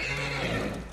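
A horse in the Ghost of Tsushima video game gives a loud, close whinny, one drawn-out neigh with no talking over it.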